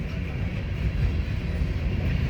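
A CSX freight train rumbles past, a steady loud low roar with rail noise, no voices over it.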